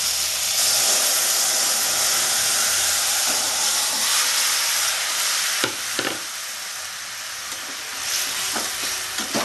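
Potol and potato pieces sizzling in hot oil with cumin paste for a Bengali-style fish curry, a loud continuous frying hiss with occasional stirring scrapes and knocks, no talking.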